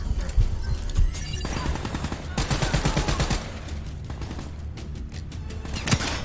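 Gunfire and automatic bursts from a Call of Duty Black Ops 3 campaign firefight, loud rattling volleys and scattered single shots filling the whole stretch, with mechanical clatter between bursts.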